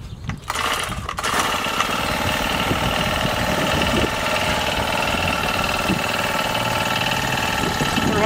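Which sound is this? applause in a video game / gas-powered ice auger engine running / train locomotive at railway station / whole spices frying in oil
gas-powered ice auger engine running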